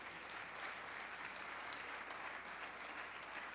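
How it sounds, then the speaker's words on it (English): A steady, dense round of audience applause fills the hall at a Martin Luther King Jr. Day celebration, a continuous wash of many hands clapping at moderate distance with no talking over it. "Okay, more applause for that one."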